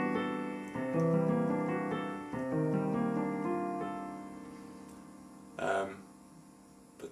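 Jazz piano harmony with chords stacked in thirds, several sustained chords struck one after another in a slow, even sequence, close and clear with no voices, ending on a brief brighter accent.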